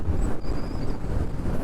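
Heavy wind buffeting a microphone during a solo motorcycle ride on a Royal Enfield Himalayan BS-model through coconut-grove country near Coimbatore, a steady low roar with gusty rumble throughout, with no voices.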